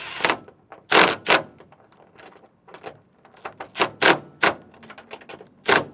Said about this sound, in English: Now I'll get these tightened down. I got a wrench on the other side just to secure the head of the bolt.